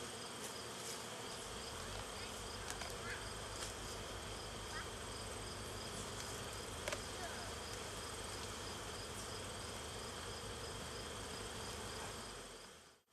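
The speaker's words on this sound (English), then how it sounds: "There's plenty of bees here." Honey bees buzz densely around an open backyard hive, a steady close swarming drone with individual bees passing near, continuing unbroken before fading out at the end.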